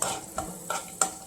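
Raisins roasting in ghee make a soft, close sizzle broken by three short scraping stirs of a spoon in the pan, spaced evenly.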